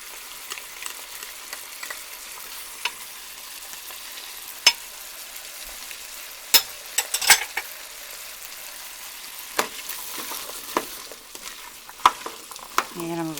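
Garlic and onions sauté in a pot as the base for split pea soup, making a continuous sizzle broken by scattered clicks and scrapes from stirring, with a few louder knocks against the pot.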